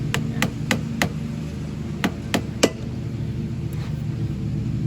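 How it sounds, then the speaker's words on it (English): A small screwdriver taps a key down into a Toro Timemaster mower: about seven sharp metallic taps close by, four quick ones and then three more after a short pause, over a low steady hum. "A little screwdriver to tap it down."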